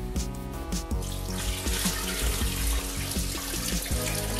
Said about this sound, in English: Then pour in some of the water.